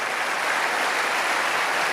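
A church audience at a sermon applauds steadily, a dense, even wash of many hands clapping, loud and sustained for the whole moment.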